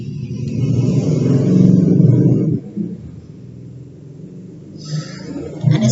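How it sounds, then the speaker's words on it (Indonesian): A motorcycle engine passes by outside, a loud low rumble that swells and then cuts away after a couple of seconds, leaving fainter traffic noise behind. "Ada suara sepeda motor."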